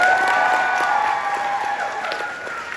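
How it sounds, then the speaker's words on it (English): A live-show crowd gives a sustained wash of applause and cheering, heard from a distance with a hollow, reverberant hall sound at an even level throughout. "Let's give a big round of applause to the liver."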